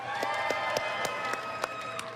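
A BlizzCon crowd at a Hearthstone Q&A panel cheers and applauds from a distance, a steady wash of cheering broken by scattered claps.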